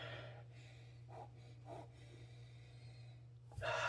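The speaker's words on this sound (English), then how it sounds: "Let's take a sniff." A person sniffing tequila blanco in a glass: a few short, soft nasal inhalations close up over a steady low hum, with a sharper, louder sniff near the end.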